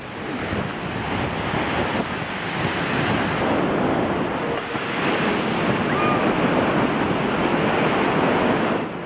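Atlantic waves surge and crash onto a rocky shoreline on a Madeira coastal trail, with the larger waves arriving about every 14 seconds. The roar of surf is loud and continuous, mixed with strong wind buffeting the microphone.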